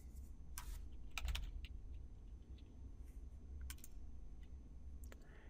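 Keys tapped on a computer keyboard while entering a sysprep command in a Windows command prompt, in short irregular bursts of close, crisp clicks over a steady low room hum.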